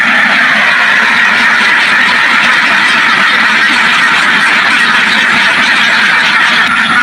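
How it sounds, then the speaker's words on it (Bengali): A large flock of around 550 ducks on a duck farm quacks loudly and continuously at close range, many calls overlapping into a dense, unbroken chorus with no talk heard. "এখানে কতগুলো হাঁস আছে এটাতে?"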